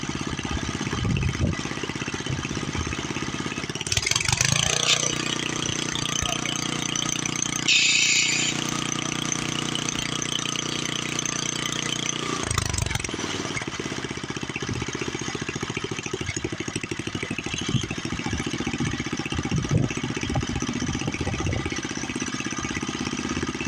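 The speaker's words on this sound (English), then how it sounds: "pretty good sounding little motor. Not a puff of smoke, nothing. Sitting there and idling." A small 1978 tiller engine idles steadily nearby, a continuous mid-pitched putter with a brief louder clatter partway through.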